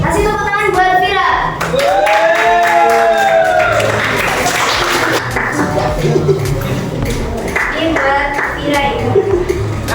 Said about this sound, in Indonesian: Kasih tepuk tangan buat Vira.